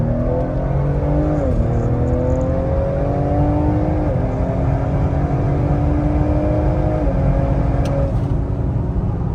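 Heat-soaked ST car accelerating hard in a pull on a hot day, loud steady engine drone rising in pitch with brief dips at gear shifts, heard from inside the car, no talking.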